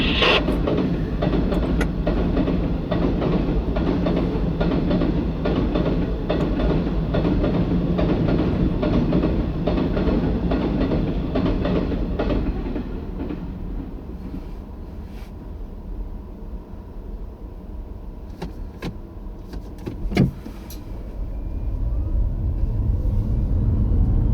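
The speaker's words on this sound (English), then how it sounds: "Oh, it's coming across now. And it is the steel train." A heavy steel-carrying freight train rumbles past nearby at a level crossing, loud and steady with rhythmic clatter, then fades to a lower rumble with a sharp metallic clank near the end.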